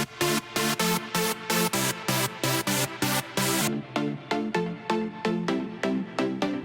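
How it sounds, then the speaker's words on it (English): Main synth lead with a supporting texture layer, bright plucky notes in a rhythmic melodic pattern, the layered texture dropping away partway so the synth carries on thinner and alone. "As you can see here, I have a main synth and a supporting texture to it."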